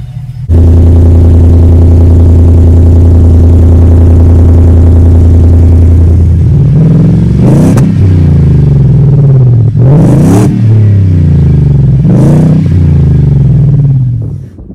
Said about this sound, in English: Let's go do a, just do a quick rev here, just kind of give a little bit of a better idea.